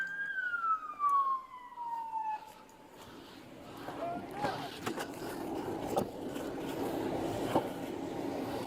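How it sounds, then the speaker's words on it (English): A police car siren wails in a descending sweep, followed by a noisy scene of traffic rumble, thumps and clatter, moderately loud and close. "Somebody needs to kill their siren."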